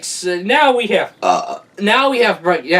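A long, loud, drawn-out burp rolls through several guttural swells, with voiced belching tones rising and falling across nearly three seconds.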